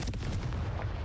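A Confringo blasting spell going off in the video game Hogwarts Legacy, a brief dense burst of explosive crackle and rumble filling the whole moment.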